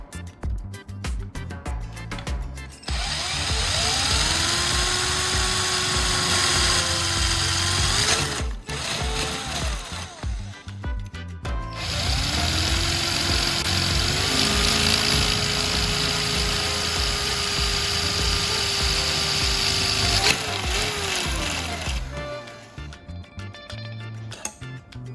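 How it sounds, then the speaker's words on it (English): A power drill whirs in two long sustained runs, its motor pitch rising and settling as it bores into a hard plastic charger casing, with brief pauses between. "I'm going to drill 2 holes into the charger casing."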